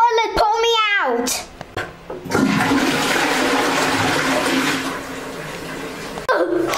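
A toilet flushes in an animated game-character prank skit. The loud, rushing water swirl runs for about four seconds after a squeaky cartoon voice and a thump, and it tapers off as another voice comes in.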